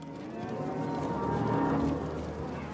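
Cattle on a ranch moo in a long, loud, low drawn-out call, close by, with a soft outdoor background and no talk.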